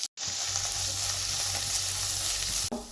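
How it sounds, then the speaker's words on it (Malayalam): Thinly sliced onions fry in a hot pan with a steady, close sizzle that runs almost the whole time, broken by a brief silence at the start and a short clatter near the end. "ഇനി ഇതിന് ചേർക്കാനുള്ള സവാള കനം കുറച്ച് അരിഞ്ഞത് ഇതിലോട്ട് ഇട്ട് കൊടുക്കുകയാണ്."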